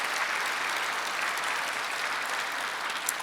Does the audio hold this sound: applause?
yes